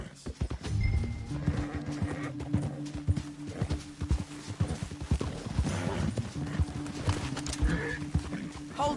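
Horse hooves clip-clop steadily at a walking pace in Red Dead Redemption 2, with a horse whinnying and music or voices underneath.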